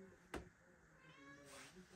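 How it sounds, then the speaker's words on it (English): A pet cat meows indoors, two short close meows about a second apart, with a faint voice murmuring quietly behind them. "It's just a cat, sorry."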